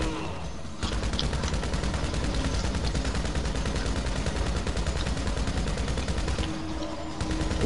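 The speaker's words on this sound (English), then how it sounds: "Are you just shooting a wall now?" Rapid, sustained automatic gunfire in a video game hammers at a wall almost nonstop. The shots are loud and close, with a brief pause at the start and a short dip near the end.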